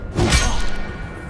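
Revelio spell cast in Hogwarts Legacy: a single magical whoosh swelling quickly with a bright shimmering ring, then fading into a soft lingering hum.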